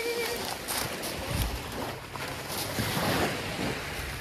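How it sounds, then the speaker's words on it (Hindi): Rushing strong ocean surf and crashing water at a French beach, with gusty wind noise on the microphone, loud and continuous, with brief voices faintly in the background. "लहरें बहुत तेज है"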